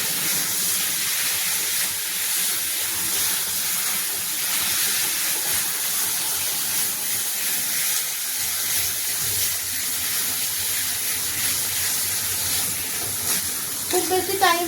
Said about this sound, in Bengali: দিয়ে পুরটাকে নাড়তে হবে যতক্ষণ না পুরটা শুকনো হয়ে যাচ্ছে, মানে কড়াতে লেগে থাকবে না